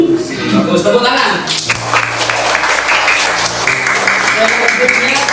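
A burst of applause from a small group in a classroom lesson, steady clapping over a few seconds mixed with voices and background music.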